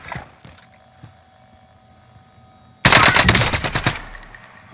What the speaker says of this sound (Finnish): sieltä kauempaa ammutaan tuolta